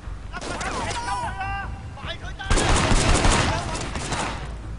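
Pistol fire from the video game Sleeping Dogs bursts in as a rapid, dense volley in the second half, following a stretch of talking over game sound.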